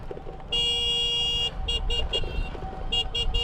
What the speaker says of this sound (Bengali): বাট এই হর্নের সাউন্ডটা আমার কাছে ভালো লাগে না